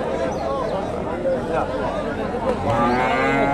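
A large Friesian-cross heifer lowing at a busy cattle market in Bogura, drawn-out moos rising over the crowd's murmur, with people talking and bargaining around it.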